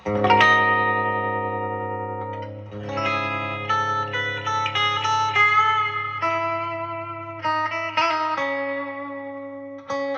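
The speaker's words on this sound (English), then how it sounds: "That reverb took a minute to warm up, but it's like doing it now for sure." Electric guitar played through a vintage 1978 Fender Princeton Reverb amp with its reverb on, loose noodled chords and single notes ringing with a lush spring-reverb tail, steady and fairly loud throughout, no talking.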